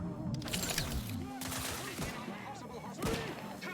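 Gunfire crackles in The Outer Worlds 2, with several sharp volleys and scattered shots in quick succession, loudest near the start and again toward the end, amid other game sounds and a bit of voice.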